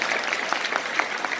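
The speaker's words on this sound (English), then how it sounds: "round of applause for Joe" Audience applause at a 2019 LA Religious Congress workshop for percussionist Joe Hilgerman: a steady, dense patter of many hands clapping from a crowd, sustained throughout with no talk.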